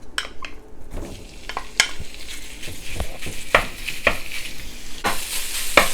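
Pork sizzles in a few spoonfuls of plain oil in a wok while a utensil scrapes and stirs, sharp clacks of metal against the pan punctuating the steady frying hiss, close and loud with no talking.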